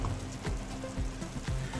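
A sauce simmering on low heat as green chilies go in gives a soft, steady sizzle and bubbling, quiet and close, with no talk.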